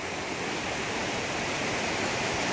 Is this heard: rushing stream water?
yes